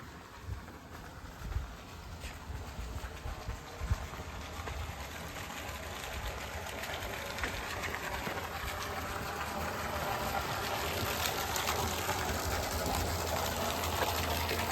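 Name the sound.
borewell pump running, water flowing into tank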